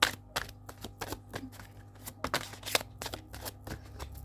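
Oracle cards being shuffled by hand, a rapid run of crisp riffling flutters and slaps in irregular bursts, close and fairly loud, with no talking.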